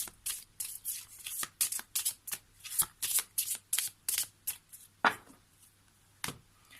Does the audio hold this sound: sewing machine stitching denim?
no